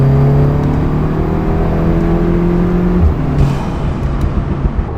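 A Volkswagen Golf R Mk7.5 cruises along a road, its engine humming steadily with a rising then settling drone, loud and close, heard from inside the car with no talking.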